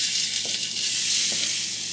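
Potatoes frying in butter in a pan produce a loud, continuous hissing sizzle, close and steady throughout, with faint stirring scrapes.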